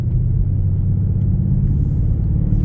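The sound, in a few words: Mercedes-Benz GLS 63 AMG 4MATIC driving on test drive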